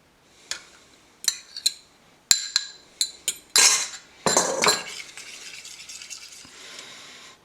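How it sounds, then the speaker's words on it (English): A utensil clinks against a bowl while eggs are beaten into spiced milk with yeast for stollen dough: sharp, irregular taps and scrapes, close and fairly quiet, ending in a softer swishing stir. "I'm going to beat these eggs and mix them into the milk"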